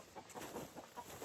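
Escaped backyard chickens on an off-grid homestead cluck faintly in short, irregular bursts. The sound is distant and quiet, with no talking.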